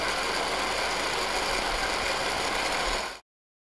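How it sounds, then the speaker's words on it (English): A professional ice cream machine churns melon sorbet with a steady, loud mechanical whirring and grinding hum that runs continuously for about three seconds, then cuts off abruptly into silence. "This is a professional ice cream machine."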